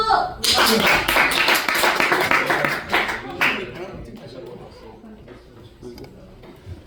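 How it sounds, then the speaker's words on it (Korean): A church young-adults group bursts into a loud round of clapping that rings for about three seconds, then fades as a voice talks over the dwindling claps. "박수!"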